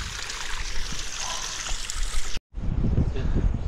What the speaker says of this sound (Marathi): इकडे बघा पाणी येत आहे.